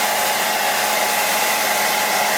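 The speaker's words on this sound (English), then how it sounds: "As the hairdryer heats up, the wax reaches its melting point" A hair dryer heating and melting wax into a Fjallraven G-1000 cotton outdoor garment blows a steady, loud, unbroken airy roar throughout.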